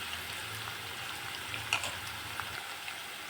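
Curry leaves, green chilli and onion fry in hot oil for a brinjal curry. A quiet, continuous sizzle carries a few soft crackles and pops.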